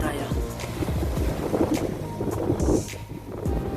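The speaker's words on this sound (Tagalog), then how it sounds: "Yan, grabe, lakas ng alon." Strong ocean waves crashing and surging near the shore, a dense roar with repeated swells, wind buffeting the microphone and faint voices in the background.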